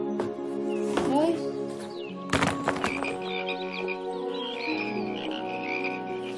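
Frogs croak in a dense, continuous chorus of overlapping, rattling calls, close and fairly loud. A few sharper knocks and bird-like chirps mix in, and no one speaks over them.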